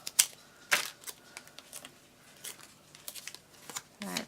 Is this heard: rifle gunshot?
no